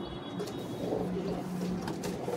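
Pigeons coo low and soft in a loft, brief murmuring calls over a steady rustling background, no talk.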